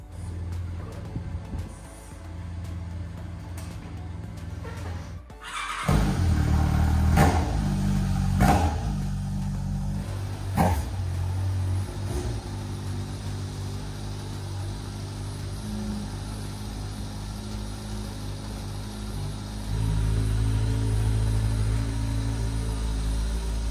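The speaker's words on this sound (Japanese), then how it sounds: "ちょっとエンジンかかるかをね。" A car engine cranks and catches, then settles into a steady idle, with a brief rev partway through and a louder surge near the end.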